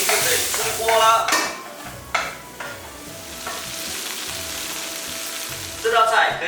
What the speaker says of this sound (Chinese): 蚝油，再来点酱油，翻炒均匀就可以出锅了